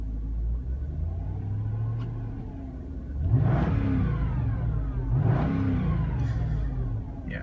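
A Mercedes C43 engine idles with a low rumble, then revs up twice in quick surges, each swelling and falling back, moderately close.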